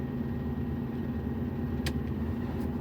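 An automatic-transmission car idles steadily with a constant low engine hum, then begins to pull away, the engine tone holding smooth and even with no voices.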